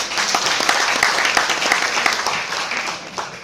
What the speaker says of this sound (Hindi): एक ताली आप लोगों के लिए